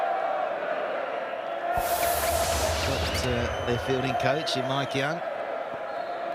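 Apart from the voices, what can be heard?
cricket crowd chanting Hilfy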